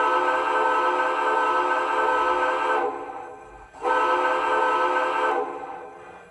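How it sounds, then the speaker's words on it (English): Whistle of an MTH PS 3.0 Imperial Empire State Express model train sounds in two long, steady, loud blasts separated by a short gap, with no talking. "Try the whistle here."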